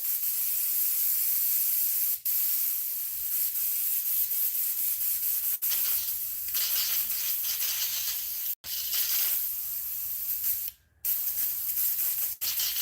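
An airbrush with a 0.5 mm nozzle sprays paint onto a jointed musky crankbait lure, giving a loud, steady close hiss broken by a few brief pauses.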